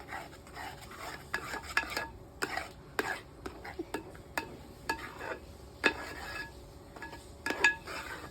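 A spoon scraping and stirring thick halwa made from four ingredients in a pan, giving irregular close clinks and scrapes with a soft background hiss.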